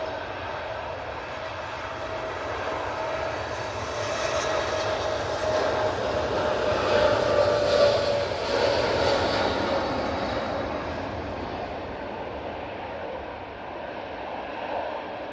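Empty TUI jet departing Manchester Airport on a positioning flight to London Gatwick in stormy weather, a distant engine roar with a whining tone that builds, peaks midway, then fades away.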